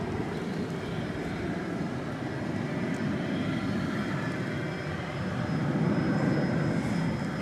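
An airliner departs DFW for Los Angeles on a steamy summer night, its jet engines a steady, loud, broadband roar that holds evenly throughout and swells slightly toward the end, with no voices.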